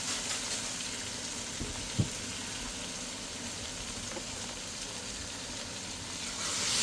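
Oil frying in a pot of okra soup, a faint, steady sizzle with a soft bubbling tick near the middle, heard alone and close.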